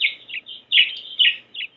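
A mother finch chirping near her nest in Encinitas, giving a quick series of bright, close chirps and tweets in irregular bursts, clear and loud against quiet surroundings.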